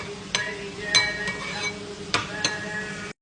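A spoon stirs sauce in a bowl for homemade Kentucky-style fried chicken, with a few sharp clinks against the dish and soft scraping between them, close and fairly loud, with no talk.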